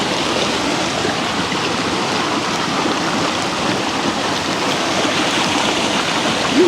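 A small stream of water runs over rocks, a steady, close, broadband rushing and splashing that continues evenly without talk.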